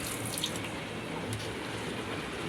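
Water rushes and splashes steadily inside a Samsung washing machine with a fault that fills and drains at the same time, a constant close wash of flowing water.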